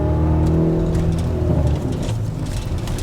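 Engine of a 2016 Kia Forte running on E85 fuel, a loud, steady revving drone that drops in pitch partway through as the car accelerates and shifts, heard from inside the car.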